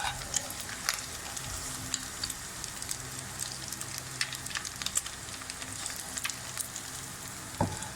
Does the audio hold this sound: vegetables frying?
yes